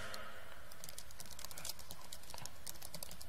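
Fast, light clicking of keys on an Italian-layout computer keyboard while writing code documentation, a steady close patter of taps with no talking, fairly quiet.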